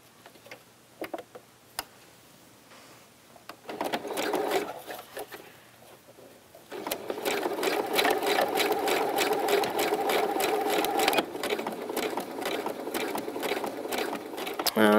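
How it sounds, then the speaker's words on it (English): Sewing machine running a lengthwise zigzag stitch over overlapped fabric, a fast steady rhythmic clatter that starts faintly, then runs loud and continuous for about eight seconds with no talk. "like to do a zigzag stitch lengthwise"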